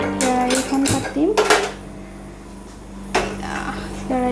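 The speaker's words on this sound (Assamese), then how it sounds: "প্ৰথমতে আমি এতিয়া কেৰাহীখন পাতিম" A metal kadai is set on a kitchen stove with several bright clanging rings and scrapes of metal on metal, each ringing tone fading, a low steady hum underneath.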